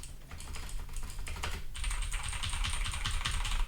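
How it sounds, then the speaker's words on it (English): Clicky mechanical computer keyboard being typed on in rapid, continuous bursts, close and crisp, with denser clatter in the second half and no talking. "Yeah, that's my keyboard."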